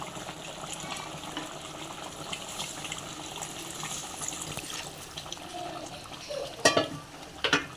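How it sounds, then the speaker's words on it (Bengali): Water is poured into braised beef in a cooking pot for biryani, a steady gushing stream that runs for several seconds, followed by a few sharp clatters near the end. "তো আমি এবার অল্প করে একদম পানি দিয়ে দেব।"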